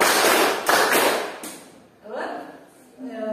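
Children in a classroom clap a counted rhythm pattern together, loud close bursts of group claps in short clustered groups, with gaps and some voices between them.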